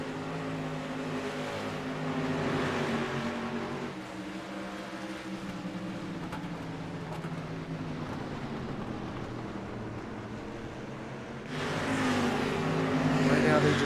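Street stock race cars circle Oswego Speedway in an iRacing sim race, a steady blended engine drone that swells and fades as the pack passes, with a louder surge near the end under continuous commentary.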